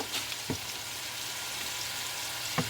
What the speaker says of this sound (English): I'm adding about 3 tablespoons of butter in here.